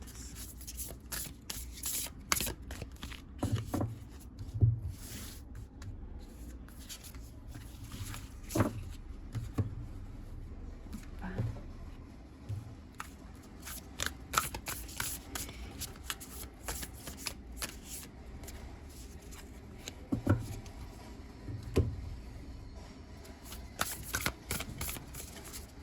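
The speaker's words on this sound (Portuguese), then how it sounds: "Esse deck aqui é ruim de embaralhar. Ele é muito fosco" A matte, slightly sticky deck of cards is shuffled by hand at close range, giving a long run of soft riffling and rubbing with repeated sharper flutters and taps.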